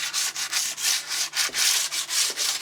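Fret ends of a cheap Antiquity S-style electric guitar being sanded with 320 grit sandpaper: quick, even back-and-forth rubbing strokes, close and fairly quiet, with no talking.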